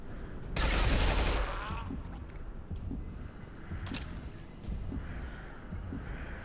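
Player's gun fires in a Mass Effect 2 firefight, loud bursts of shots standing out at the start and again later over a busy background of game sounds.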